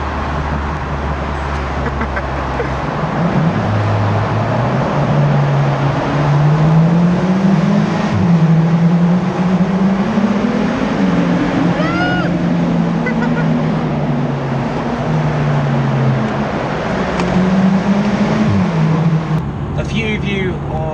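A Jaguar XE's engine drones steadily while driving through a tunnel, with a low rumble rising and falling as the car accelerates, loud and close throughout, and a voice briefly heard over it.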